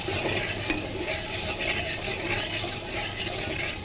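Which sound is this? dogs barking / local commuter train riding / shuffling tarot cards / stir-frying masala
stir-frying masala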